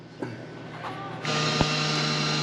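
Welding 16 gauge sheet metal inside a vehicle's front storage area, a steady loud buzzing hiss that starts abruptly partway through and holds continuously to the end, with a short sharp pop near the middle.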